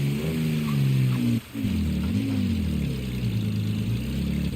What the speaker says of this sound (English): with the sound they tried to give it, it had kind of more of that old Ferrari sound to it as well